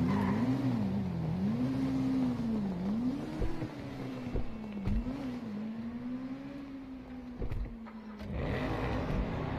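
A car in the video game GTA V drives off, its engine rising and falling through repeated gear shifts, loud and close, with occasional knocks and thumps.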